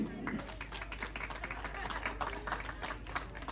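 Scattered clapping and applause from a crowd at a running race, busy and fairly loud, with voices mixed in underneath.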